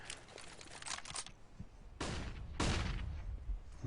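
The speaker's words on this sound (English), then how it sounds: "Flashbang's being exchanged over mid." Flashbangs and gunfire in Counter-Strike, a cluster of sharp bursts early on, then two louder blasts with lingering noise later, fairly quiet overall.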